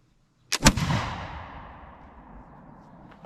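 Northwest trade gun firing a black powder shot load of 72 grains powder and 62 grains shot, one sharp, loud outdoor blast after brief silence, followed by a long rumbling echo that slowly fades.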